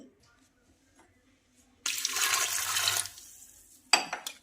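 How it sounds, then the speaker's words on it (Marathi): Water is poured into a pressure cooker holding chickpeas, bay leaf and salt: a quiet lull, then a splashing rush of about a second, followed by a shorter second splash. "आणि गरजेनुसार घालायचं आहे पाणी"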